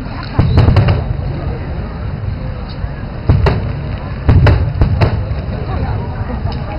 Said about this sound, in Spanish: Parece que los fuegos artificiales salen de la cabeza de la gente.